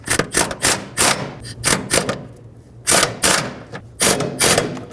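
A ratchet clicks in quick bursts as it tightens bolts on the input speed sensor bracket of a 2013–2020 Nissan Pathfinder, loud and close, with short pauses between runs of clicking.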